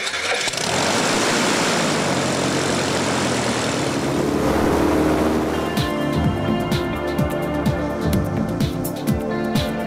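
An aerobatic propeller airplane engine roars loudly and steadily, then shifts into a rougher, pulsing drone with rising and falling pitch.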